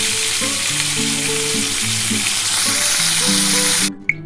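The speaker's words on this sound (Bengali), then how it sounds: "এই তেলের মধ্যে আমি একটা শুকনো লঙ্কা দিয়ে দিলাম।" A dried red chili sizzling in hot oil after pointed gourd has been fried, a loud dense crackle that runs steadily close up and then cuts off abruptly near the end.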